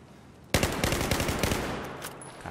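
Automatic gunfire in the shooter game Battlefield 1 breaks suddenly out of quiet into a loud, rapid burst of shots that keeps going for about two seconds, close and alone.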